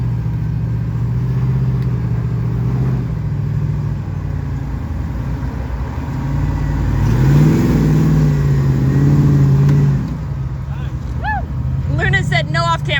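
A Jeep crawls an off-road line, its engine giving a steady low rumble that swells into a rev in the middle, with people talking over it at times.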